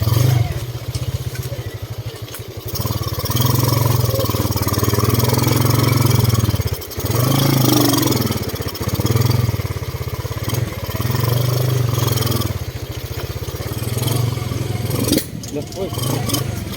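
A motorcycle engine runs steadily on a rough road, carrying two riders, close and loud with a low throbbing drone, brief dips and bumps, while people talk over it.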